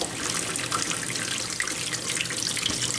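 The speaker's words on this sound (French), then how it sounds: "Je vais ajouter de l'eau." Water pours steadily from a tap into a pot holding a lamb shoulder for a méchoui-style braise, a continuous close splashing rush with no talk.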